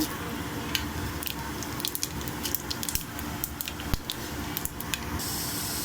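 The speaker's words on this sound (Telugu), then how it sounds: "కొద్దిగా జీలకర్ర వేసుకున్నామండి" Cumin seeds, cardamom, cinnamon, clove, star anise and bay leaf sizzle in hot oil for mutton keema, a continuous close crackling fry with small pops throughout.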